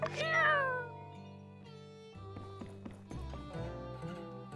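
A cat meows in My Time at Sandrock, a loud drawn-out call at the start that fades into soft background game music and lighter in-game sounds for the rest of the clip.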